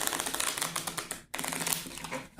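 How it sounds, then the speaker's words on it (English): Rapid fluttering clicks of cards being riffled together, a dense burst that stops briefly, then resumes in a second quick cascade. "Let's give another really good riffle shuffle."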